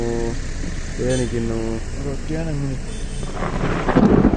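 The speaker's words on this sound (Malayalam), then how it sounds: "മഴയും വരുന്നുണ്ട്." Steady rain hisses in the background of a forest near Ooty and the Mudumalai tiger reserve while a person talks over it, and the heavy downpour swells louder near the end.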